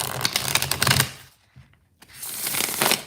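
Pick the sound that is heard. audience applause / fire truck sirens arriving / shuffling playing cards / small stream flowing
shuffling playing cards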